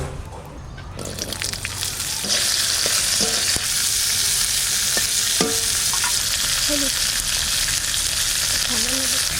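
Yardlong green beans fry in hot oil for a raw mango and brinjal pickle, giving a steady loud sizzle with spoon stirring and scraping, while a voice speaks intermittently.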